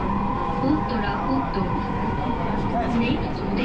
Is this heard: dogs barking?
no